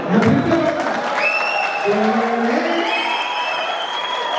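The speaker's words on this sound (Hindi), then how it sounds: "ऐसे कमजोर तालियों से सुनेंगे तो काम नहीं चलेगा।" An audience at a poetry recital in Riyadh applauds and cheers, a loud burst of clapping that settles into a steady wash, with a voice rising over the crowd.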